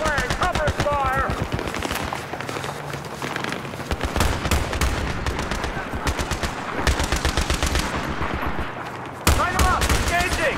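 Rapid machine gun bursts rattle throughout a Battlefield 3 firefight, sharp repeated shots in long strings with brief pauses, loud and close, while voices shout orders over the gunfire.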